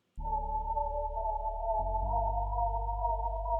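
Downsampled sample beat for a TikTok fish pie track, with a deep sustained bass line under a steady mid-range melodic loop; a bass note shift near two seconds, loud and continuous with no voices.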